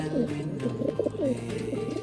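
A five-year-old female pigeon coos repeatedly in soft, throaty rolling phrases, close by, over a steady low background hum.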